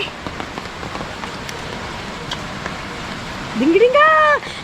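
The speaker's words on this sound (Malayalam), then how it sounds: "മഴയല്ലേ കണ്ടോ" Steady rain falls outdoors as a continuous hiss, with a few scattered louder spatters, and a brief rising, whistle-like tone near the end.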